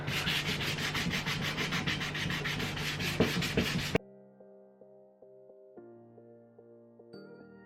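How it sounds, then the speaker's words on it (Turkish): Rhythmic back-and-forth strokes of sandpaper rasp against a rusty metal stool for a few seconds, close and loud, then give way to soft sustained tones. "Zımpara yapmaktan nefret ediyorum."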